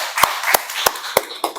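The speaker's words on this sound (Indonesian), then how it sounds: "Oke, beri tepuk tangan buat teman-teman kita." A few scattered hand claps for a student group during an Indonesian performance assessment session, about five sharp separate claps spaced roughly evenly, close and moderately loud with no talk.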